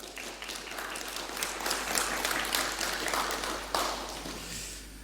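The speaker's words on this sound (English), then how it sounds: "Give him an applause" A conference audience applauds a speaker about to talk on Debian Account Managers, steady clapping sustained for several seconds without voices.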